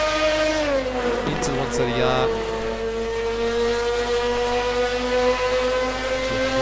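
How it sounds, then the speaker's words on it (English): Screaming high-revving engine of a Ferrari 488 GT3 Evo in a racing video game, a loud sustained whine with a brief gear-shift dip, steady and close under a commentator's talk. "Listen to the engine sound. It's such a screaming engine there."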